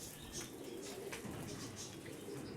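Pigeons coo softly in Mykolaiv, Ukraine, low throaty calls repeating under a faint outdoor background, with a hint of wing movement.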